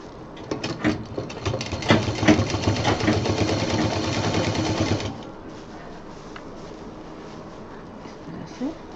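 Sewing machine rapidly stitching diaper bag fabric, fast rattling needle run for about five seconds up close, then stopping, with quiet handling afterwards.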